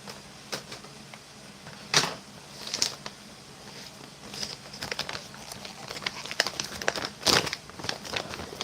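Sturdy plastic ration bag from a Chilean 2019 Daff Black Line salmon stew menu being torn open, heard as close, irregular crinkles and crackles with a few louder bursts.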